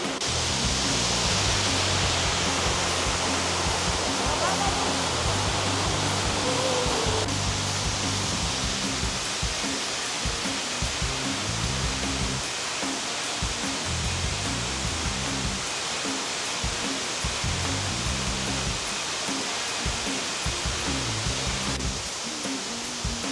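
Hanuman Gundi waterfall roars steadily in a forest, a dense, loud rush of falling water that fills the whole stretch without pause.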